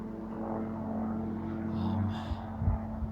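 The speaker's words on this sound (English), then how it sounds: "There's a helicopter again." A steady low engine drone with a throbbing rotor-like hum, a helicopter passing overhead near Gothic Basin, loud and continuous throughout.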